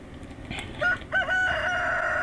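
A rooster crows once in the video game Stardew Valley, a clear, nasal cock-a-doodle-doo rising and holding over quiet background, with no speech.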